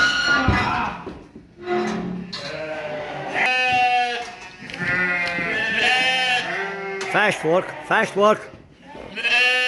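Ewes and lambs bleat repeatedly and loudly in a farm pen while ram lambs are sorted out from ewe lambs, with people talking over the calls.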